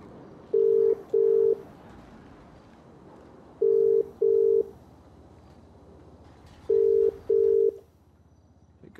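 Phone call ringback tone in the video game GTA V, pairs of short electronic beeps repeating three times at a steady interval, clear and fairly loud over a quiet background.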